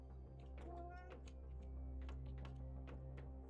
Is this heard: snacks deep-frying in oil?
no